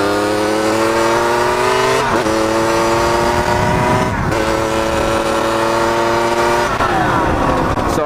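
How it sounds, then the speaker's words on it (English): A dirt bike engine roars loudly and steadily during riding, its pitch rising and then dipping at several gear changes, with wind-like rumble beneath and no talking. "I don't really feel comfortable talking while I'm on this bike because it's so loud."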